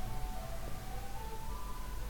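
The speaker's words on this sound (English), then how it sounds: "there goes an ice cream truck" Ice cream truck jingle playing outside a house, a thin melodic tune drifting in from a distance over steady low background noise, with no talking.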